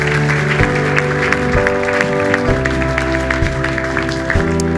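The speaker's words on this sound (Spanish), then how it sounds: "Dale un aplauso al Señor" A congregation applauds the Lord at a Spanish-language men's church session, loud sustained clapping over steady organ or keyboard chords, no talk.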